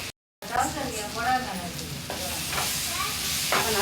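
Potatoes hiss and sizzle steadily in a hot pan as they are stirred, a continuous frying sound close up after a brief silence, with a voice talking over it.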